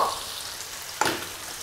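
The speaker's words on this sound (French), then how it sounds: "mais on va d'abord l'arroser de vin blanc" White wine splashed into a hot pan for a macaroni gratin with Morbier and Morteau sausage: a steady sizzle, then a sudden burst of hissing as the liquid hits and keeps bubbling loudly.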